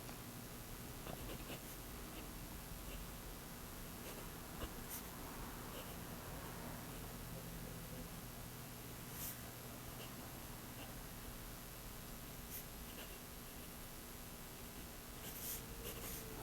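A Lamy AL Star fountain pen nib writing on paper, a faint, soft continuous scratching with light feedback, very quiet and close, no talking.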